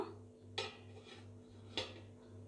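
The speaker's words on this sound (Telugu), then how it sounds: "దీనిపైన కూడా మూత పెట్టుకుందాం. మూత అయితే పెట్టేస్తాను." A metal lid is set on a steaming pot in an improvised idli-style setup, giving two sharp clanks about a second apart over a low steady hum.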